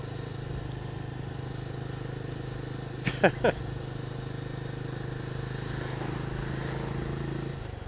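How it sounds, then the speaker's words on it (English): Single-cylinder Benelli motorcycle engine heard while riding, a steady low droning thrum mixed with road and wind noise, with a few brief clicks midway. "It's a single cylinder. It sounds like I'm riding a Chinook."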